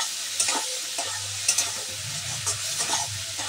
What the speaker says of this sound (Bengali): চলো এবার আমি এগুলিকে সুন্দর করে একটু কষিয়ে নিই